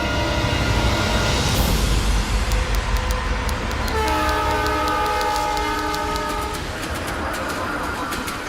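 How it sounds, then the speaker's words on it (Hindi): A passenger train pulls out, its horn sounding in long tones over rolling rail noise and rhythmic clickety-clack from the wheels, loud and close throughout. "तुलसीगढ़ के लिए ट्रेन निकल गई है।"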